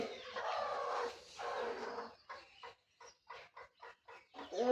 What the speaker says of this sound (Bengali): আজকে ব্লগে থাকবে আমি মুরগির বাচ্চা উঠাবো। দেখি কয়টা বাচ্চা উঠেছে আজকে।